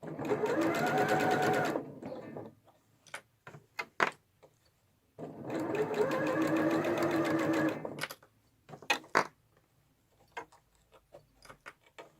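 A sewing machine stitches curved seams on a pork pie hat in two loud, steady runs of about two seconds each, separated by clicks and handling noises, with no talking.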